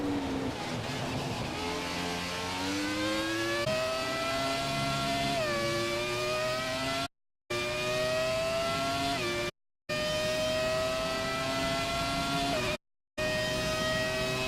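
A Formula 1 car engine in the F1 2017 racing game screams through repeated upshifts, its whine climbing and dropping in steps, loud and close with brief cuts of silence between stretches.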